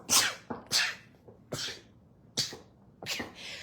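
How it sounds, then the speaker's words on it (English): A series of about five sharp, explosive sneezes in quick succession, close and loud, with brief gaps between them. "excuse me, I'm going to sneeze"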